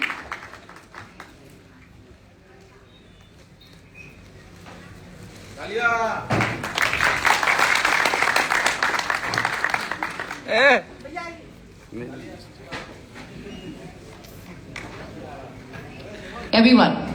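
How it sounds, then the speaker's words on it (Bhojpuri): An audience claps at a live stage show during a birthday celebration for Khesari Lal Yadav, a dense burst of applause swelling for several seconds in the middle, with a person talking over the crowd throughout. "जोरदार तालियां हो जाएं इस"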